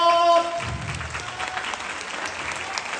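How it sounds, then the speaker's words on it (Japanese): Audience applause at a live stage event, a full sustained round of clapping from a crowd that swells after a brief opening note and continues steadily. "もう一度大きな拍手を。"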